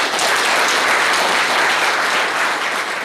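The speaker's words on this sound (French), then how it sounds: "je voudrais que vous-même vous applaudissez" Dense, steady applause from a large crowd at a political rally, loud and continuous throughout with no individual voices standing out.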